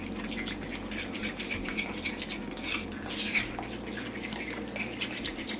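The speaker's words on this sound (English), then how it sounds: "you just want to keep mixing it until you get a nice consistency" Flour and milk batter is whisked in a bowl for a vegan cauliflower dish, a quick steady scraping and clinking of the whisk against the bowl, soft and close with no talking.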